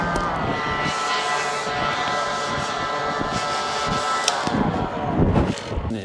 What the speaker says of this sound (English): I get my blower.